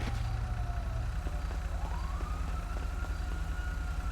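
An emergency vehicle siren in the GTA video game wails with slow rising and falling tones over constant loud engine and traffic rumble, sounding fairly close.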